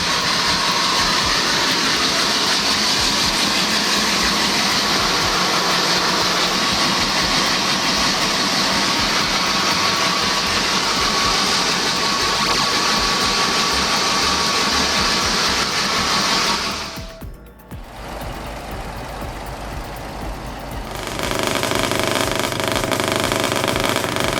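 An old 16-cylinder engine driving a pump, a loud steady mechanical roar held for most of the stretch, then a brief drop and a resumed, slightly changed drone near the end.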